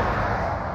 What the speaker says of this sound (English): It's like these lorries going past